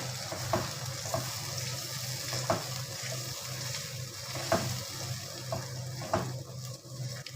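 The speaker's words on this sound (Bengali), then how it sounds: "কিছুক্ষণ কষানোর জন্য আমি এটাকে চুলোতে রেখে দিব" Chicken roast masala frying and being stirred in a pan on the stove, with a steady sizzle and periodic spoon knocks and scrapes at a moderate, fairly faint level.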